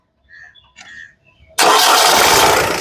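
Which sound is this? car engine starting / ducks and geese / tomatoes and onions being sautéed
car engine starting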